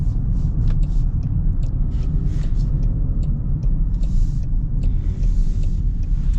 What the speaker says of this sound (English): I like the turbo noise. You get a little bit of turbo in the mix.